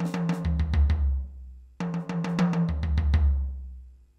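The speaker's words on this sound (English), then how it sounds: "We've got six notes on your high tom," A drum fill played twice: six quick strokes on a high tom, then four deeper strokes on the floor tom, descending in pitch, close and loud with no other instruments.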